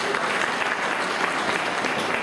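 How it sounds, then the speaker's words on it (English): Dense, steady applause from an audience at a special education forum, continuous and close for the whole short stretch. "Jeanette Collins, give her a round of applause."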